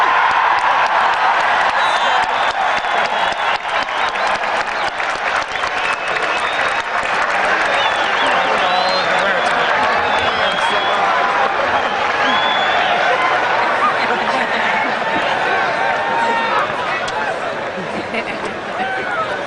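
A large crowd of military academy cadets at a West Point ceremony applauds and cheers, sustained dense clapping with scattered whoops and shouts that carries on throughout and thins slightly toward the end.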